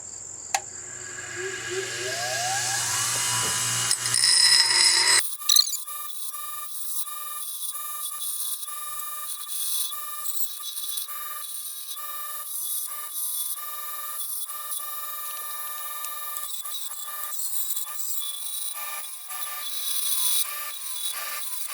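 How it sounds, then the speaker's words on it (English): Forged blacksmith hand fuller ground on a grinder, a high continuous whine and scraping that shift in pitch, then settle into a steady hard grinding drone with faint pulsing, near and loud throughout. "and we're going to start grinding it"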